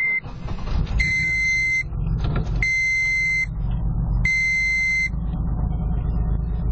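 A cold VR3.75 car engine cranks briefly and starts right up, then settles into a steady, loud idle; a high buzzing chime sounds in repeated bursts over the engine.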